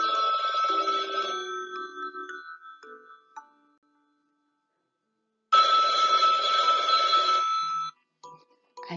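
A telephone rings twice, loud and close, each ring a bright, warbling electronic burst lasting a couple of seconds, with silence between them.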